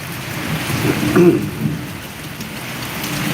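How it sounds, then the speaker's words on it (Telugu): Steady summer rain falling with a low roll of thunder swelling briefly near the middle, a continuous soft hiss of rain throughout. "అద్భుతమైన ఉరుములు మెరుపుల ధ్వనులతో ఆనందకరమైన వర్షం"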